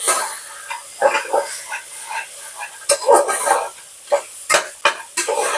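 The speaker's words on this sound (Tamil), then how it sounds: "எல்லாம் நல்லா வதங்கட்டும்." Fresh green peas sautéing in a pan for a South Indian breakfast, with a steady soft sizzle and repeated scraping stirs of a spoon against the pan, close and without talk.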